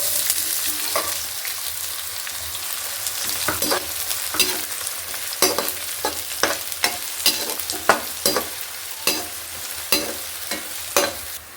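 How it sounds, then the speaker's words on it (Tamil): Chopped onions, added to lightly browned garlic, sizzle and fry in a hot pan, a steady crackling hiss broken by repeated sharp clacks of stirring, close and alone without voices. "பூண்டு லைட்டாக செவந்ததுக்கப்புறம் நறுக்கிய வெங்காயத்தை போடணும்."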